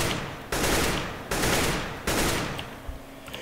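Three loud gunshots fired through a wall on the Inferno map in Counter-Strike, evenly spaced, each a sharp crack with a trailing decay.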